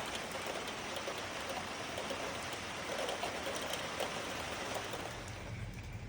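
Steady rain falls outside a house, a soft, even hiss of drops that holds at a constant faint level throughout with no voices.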